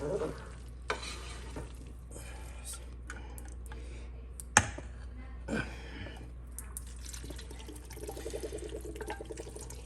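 Garlic sizzling in a pot as the base for clam chowder, a quiet continuous sizzle with scattered scraping and tapping of a utensil and one sharp knock midway.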